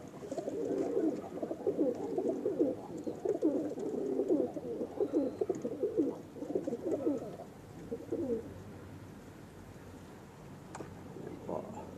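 Racing pigeons coo steadily in a low, throaty warble, close and fairly loud for most of the stretch before trailing off into quiet with a faint click, and no one speaks.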